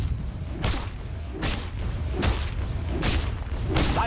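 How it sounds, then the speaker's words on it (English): Booming explosions from a Dota 2 match as a tower is destroyed, a run of five or six heavy thuds with whooshing bursts spaced under a second apart, loud and close over a steady game-audio bed. "Dyer's top tower has fallen"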